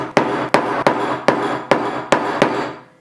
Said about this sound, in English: I already have the chocolate, I have the hammer.